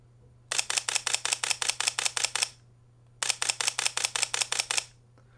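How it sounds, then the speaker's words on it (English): A camera in mechanical shutter mode fires two fast bursts of loud, crisp clicks, about a dozen evenly spaced shots in each, separated by a short pause, with a steady low hum underneath and no talking. "the sound of the shutter was completely different. It was a lot louder"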